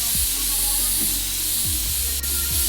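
Close, steady hiss of a red spray can cleaning PC parts in PC Building Simulator runs without a break, with a few low thuds and short tonal sweeps from the game underneath.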